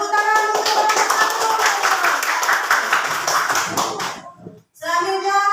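A classroom group gets a round of applause: dense, loud hand clapping from many children fills the room, then cuts off briefly before children's voices and a few more claps return.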